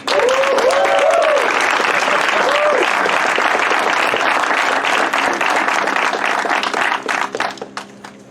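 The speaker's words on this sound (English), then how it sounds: "and a big round of applause for Kip Coons." An outdoor crowd at a school ribbon-cutting ceremony claps loudly and steadily, with a few brief voices and whoops early on, before the applause thins out and fades at the end.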